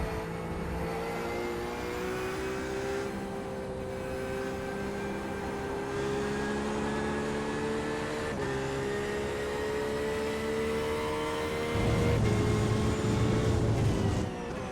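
A race car engine drones steadily throughout a racing video game session in an LMP2-class field, holding a sustained tone with gear shifts, with no talk.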